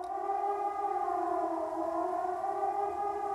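A civil defense siren blares in the game Season: A Letter to the Future, a loud, sustained wailing tone that slowly bends in pitch and holds steady throughout with nothing else over it.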